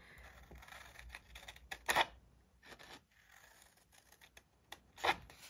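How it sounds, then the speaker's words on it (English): Scissors snip slits into 6x6 craft paper for an expandable pocket envelope, two crisp close cuts standing out against quiet rustling and light handling noise. "So when I cut my little slits, I kind of do like a very skinny triangle."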